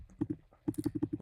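Computer mouse clicking at a desk, a few quick close clicks in a short burst followed by a steadier run of sharp, evenly spaced clicks with no voice.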